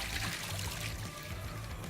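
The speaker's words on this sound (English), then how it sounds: "I'm going to just wash them in a bit of that water before I bring them up" Cut potatoes are rinsed in water to wash off starch, with a steady close pour and splash of running water sloshing over them for a couple of seconds, and no voices.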